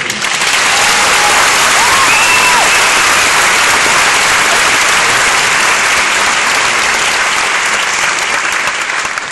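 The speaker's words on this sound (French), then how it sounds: "un tonnerre d'applaudissements" A large audience at a live comedy and magic stage show breaks into loud, dense applause that roars without pause for about nine seconds, mixed with a little cheering.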